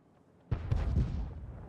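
World of Tanks artillery shell blast: a sudden loud boom after a quiet start, then a rumbling decay with a few secondary cracks, alone with no voices.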